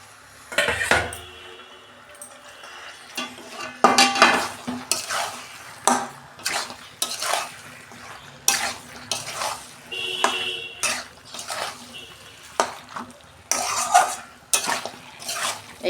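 Mixed goat meat and liver being stirred in a metal cooking pot: repeated scraping and clinking of a spoon against the pot, irregular and close, with a faint sizzle beneath.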